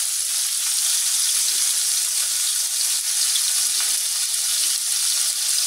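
Potatoes fry in hot oil with a steady, loud sizzling hiss and occasional faint pops, continuous throughout.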